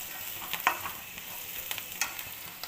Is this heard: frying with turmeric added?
yes